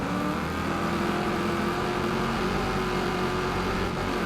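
Race cars battling in the Wreckfest 2 video game at Dalsbanen, a dense continuous roar of several engines at a steady moderate level with no talk.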